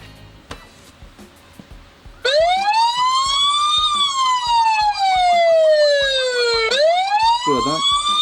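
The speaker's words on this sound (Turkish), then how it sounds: "Aktif ettiğiniz zaman kamera sizi uyardığı gibi aynı zamanda kendi üzerindeki sireni de çalıştıracaktır." A loud electronic siren built into an Osmart ABQ 5100 IP security camera wails close up, sweeping slowly up and down in pitch and restarting once, after a few quiet clicks and beeps.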